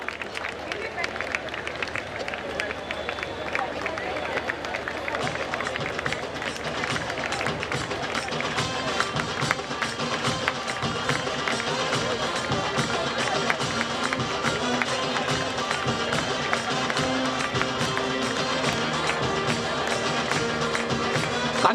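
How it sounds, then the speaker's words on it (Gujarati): Audience applauding through a standing ovation at a community association gathering on a ground in Kandivali, sustained dense clapping that carries on steadily, with crowd babble and voices mixed in. "Put your hands together and definitely a standing ovation."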